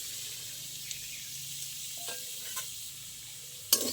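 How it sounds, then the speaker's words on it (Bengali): Semolina lightly fried in a small amount of hot oil in a wok: a faint, even hiss with a few soft stirring clicks and a sharper knock at the very end, close but low in volume, with no voices. "সুজিটা একদম অল্প ভাজবো"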